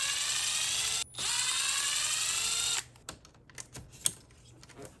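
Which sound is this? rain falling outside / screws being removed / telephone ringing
screws being removed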